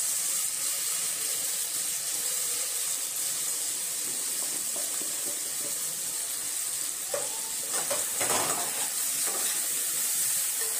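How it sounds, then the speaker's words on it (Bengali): Spices with salt, sugar and chilli sizzle in a pan while being stirred with a spatula, cooking for a Bengali dhokar dalna; a steady close frying hiss with scraping stir sounds, louder bursts near the end. "দিয়ে ভালো করে মশলাটাকে কষাতে হবে।"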